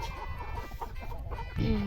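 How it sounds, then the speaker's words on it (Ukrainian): A grey rooster clucks nearby in short, scratchy bursts over a noisy village background, with a louder squawk near the end. "зарубай того півня, блін, сірого, як він мене вже достав"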